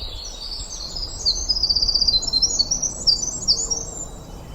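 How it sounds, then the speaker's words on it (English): A black-throated blue warbler sings in Maine woods, its high buzzy phrases repeating through the clip with rapid stuttered notes, fairly clear above a soft background hiss. "Let's wait on that black-throated blue warbler again."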